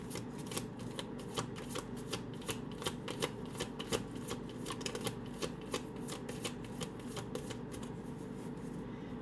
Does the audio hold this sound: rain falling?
no